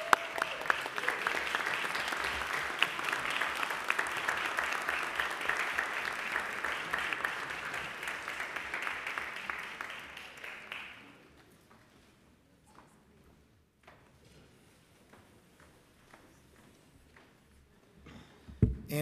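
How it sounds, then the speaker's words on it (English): A city council chamber audience gives a big round of applause for a departing staff member, dense sustained clapping for about ten seconds that then drops away to quiet room tone with faint stray sounds. "A big round of applause."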